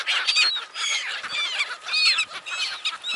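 A large grey seagull calls by the Baltic Sea, a run of harsh, repeated squawking cries that sound close and loud and fill the moment without any voices.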